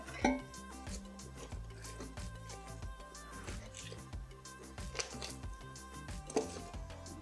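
Pan-fried potatoes are turned in a metal air fryer basket, with scattered clinks, scrapes and soft knocks of a utensil on metal, close and moderately loud over faint background music.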